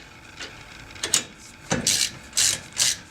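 A ratchet with a 19mm socket clicks in short bursts while working on a Porsche 944, close and fairly crisp, several quick ratcheting runs with brief gaps between them.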